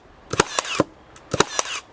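Two pairs of sharp, snappy clacks from a Milwaukee M12 cordless brad nailer driving nails into a piece of wood, close and loud with brief pauses between the shots.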